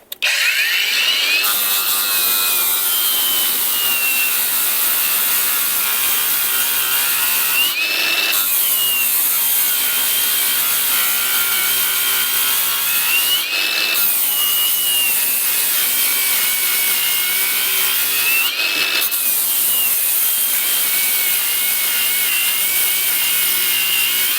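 Grosser GAG 120KB cordless angle grinder running at third speed with a Cubitron fibre disc, grit 36, sanding a finished metal part: a loud, steady abrasive whine held throughout, broken by three brief pauses or shifts in contact.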